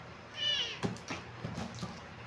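A kitten gives a few short, high meows close by, followed by soft rustling and light handling noises.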